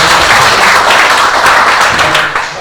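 Congregation applause during a church worship service, a steady dense wash of many hands clapping throughout, loud and close, easing slightly at the end.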